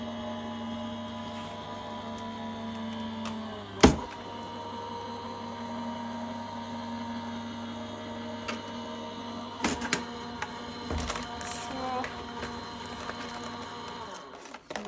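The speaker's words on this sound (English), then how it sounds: "I'll just run that through the die cutting machine." An electric die cutting machine hums steadily while feeding cardstock and a die between plates, with a sharp clunk early on and a few clicks and rattles later, close and moderately loud.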